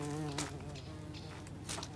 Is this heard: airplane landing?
no